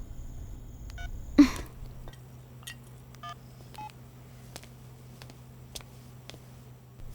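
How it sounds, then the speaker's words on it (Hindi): Short electronic keypad tones beep one after another at irregular intervals over a quiet hum, with a single louder burst early on. "प्रिया, मैं कितनी बार फोन करूं तुम्हें?"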